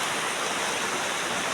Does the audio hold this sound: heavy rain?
yes